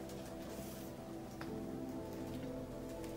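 Steady rain falling over a forest, a dense even patter with occasional louder drips against a constant wash, no voices.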